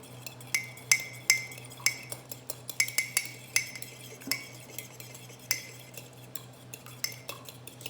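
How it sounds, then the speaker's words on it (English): A utensil clinks repeatedly against a mug while mixing egg into cooled honey and butter for a mug cake, an irregular series of sharp, close taps over a low steady hum. "into this cooled honey and butter, I'm just gonna mix it in."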